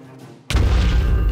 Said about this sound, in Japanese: じゃあ爆発があるから。